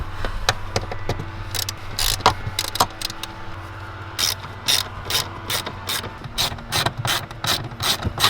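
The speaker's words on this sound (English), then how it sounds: "there are 4 T20 bolts holding in the speaker grill. We're gonna undo those now." Ratchet clicking steadily as it undoes the T20 bolts on a car speaker grill, repeated quick bursts of sharp ticks close up, with no talking.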